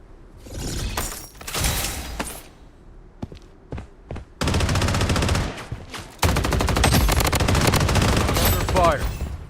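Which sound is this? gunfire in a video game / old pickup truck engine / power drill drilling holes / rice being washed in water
gunfire in a video game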